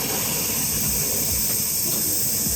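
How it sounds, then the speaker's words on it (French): An espresso machine's boiler refilling with water makes a steady loud hiss with a low rumbling churn beneath, continuous and close throughout. "l'eau se renouvelle, ça fait un petit peu ce bruit. C'est la chaudière qui se remplit."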